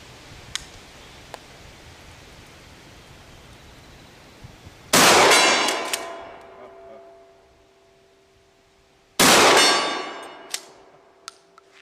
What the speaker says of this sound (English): I'm going to take a few shots across the way over there with these slugs at 50, 60, maybe even 80 yards at the gong